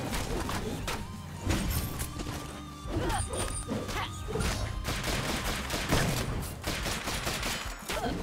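Gunfire rattles almost continuously during co-op play in Full Metal Furies, mixed with crashes, thuds and impact effects, loud and busy throughout.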